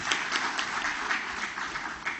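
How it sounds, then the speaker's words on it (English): An audience at a safety convention applauds the chief guest, a steady wash of many hands clapping at moderate distance for a couple of seconds, with no talking over it. "Ladies and gentlemen, round of applause for our chief guest"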